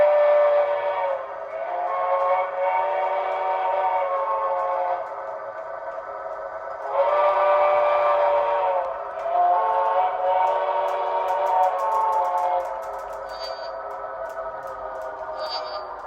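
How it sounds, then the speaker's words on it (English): A long, steady alarm whistle on a model railroad layout with lumber mill and industry sounds, with harmonic tones rising and falling in several sustained stretches, loud and continuous, with brief higher chirps near the end. "Alarm whistle?"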